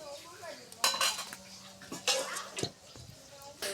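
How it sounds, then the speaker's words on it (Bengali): A metal kadai set down on a stove, several sharp clanks and clattering knocks of cookware close by, with faint talk in the background. "কড়াই তুলে দেওয়া হয়েছে, তেল দেওয়া হচ্ছে"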